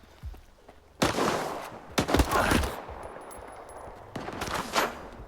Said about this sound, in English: the exchange of gunfire killed one of your men